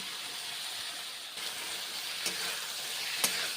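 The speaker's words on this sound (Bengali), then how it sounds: "এইভাবে কষে নিচ্ছি পাঁচমেশালি সবজি মশলার সঙ্গে মিশে যাবে" Mixed vegetables sautéing with spices in a pan, a quiet steady sizzle and hiss with a few faint spatula taps near the end.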